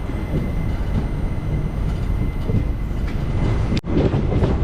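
A passenger train on the Guruvayur–Tenkasi line rumbles along steadily, loud and close from inside the carriage, with a continuous roar of wheels and a brief dip in the noise near the end.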